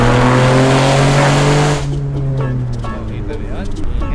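A Honda Civic's engine roars loudly under hard acceleration, with a strong, rising drone that then drops into lower engine noise mixed with voices talking.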